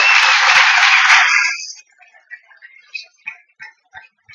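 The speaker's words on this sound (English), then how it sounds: "Can I just have an applause for that?" Audience applause in a corporate talk about PwC's values, loud dense clapping filling the first second and a half before it stops abruptly, followed by a quiet voice speaking.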